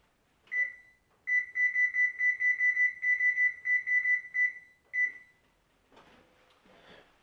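A kitchen oven beeps while being set to preheat to 425 degrees: one tone, then a quick run of about a dozen repeated electronic beeps, then another single beep, all clear and close, followed by faint clatter.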